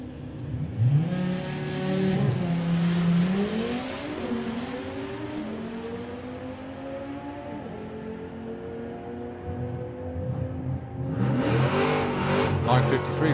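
A 1320 Mini squad drag racing car making its run at a street weekend event, engine revving hard through rising gear pulls and fading into the distance, then another car roaring nearby near the end, with a commentator's voice faintly heard.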